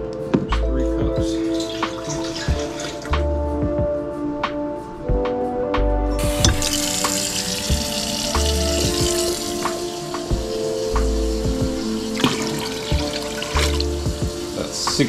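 Water runs from a tap into a fermentation vessel to make salt brine for reaper peppers, a continuous splashing pour with drips and clinks, shifting in tone partway through.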